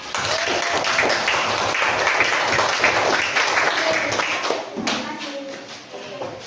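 Applause from a classroom audience for a presenting student group, dense clapping that fills most of the clip before tapering off, with some voices mixed in near the end.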